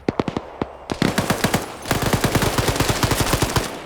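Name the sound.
gunfire in a video game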